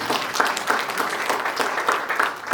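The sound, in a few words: congregation applause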